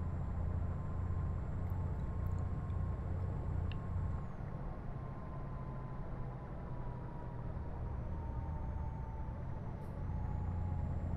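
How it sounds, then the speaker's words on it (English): A heavy truck rolling along a road in Euro Truck Simulator 2, a loud steady diesel drone with low rumble and a faint high whine, holding constant throughout. "that truck was motoring along"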